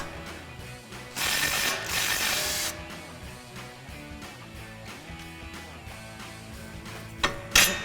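A ratchet wrench turns the strut assembly nut on a 2005-2010 Ford Mustang front strut, making quick metallic clicking with a louder, denser burst of ratcheting partway through, close by.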